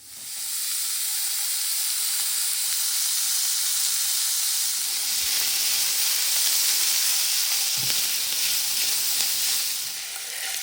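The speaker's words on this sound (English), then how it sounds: "We're just gonna brown them for a few minutes." Meat browning in a pan for a cheesy breakfast casserole gives a steady, loud sizzle and hiss that holds evenly throughout, with a few faint clinks of stirring underneath.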